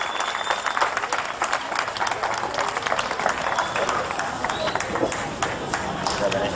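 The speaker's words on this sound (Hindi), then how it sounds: "जोरदार तालियों से करो" An audience at a lecture on Swami Vivekananda applauds loudly in a dense, steady stream of clapping that fills the whole stretch, with faint voices mixed in beneath.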